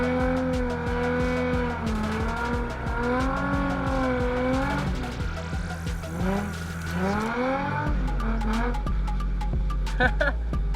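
Nissan 350Z drifting, its engine revving and rising and falling in pitch while tires squeal loudly through the slide, then dropping to a low idle rumble near the end.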